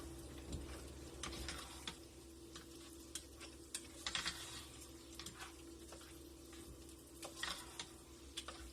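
Thick chicken pot pie filling stirred in a pot on a stovetop, with a soft steady sizzle and scattered scraping clicks of the spoon at close range, no talking.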